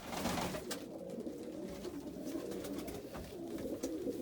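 Young pigeons sitting on the floor of a loft coo softly and continuously in a group, low murmuring calls overlapping with occasional rustling.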